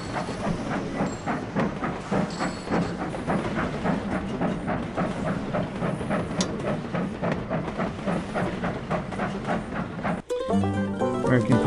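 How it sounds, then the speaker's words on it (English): A freight train runs steadily in the railway game Sid Meier's Railroads, its rhythmic clickety-clack of wheels and hissing rolling on at an even, fairly loud level, with a brief break and a different mechanical sound near the end. "That's a freight train, though."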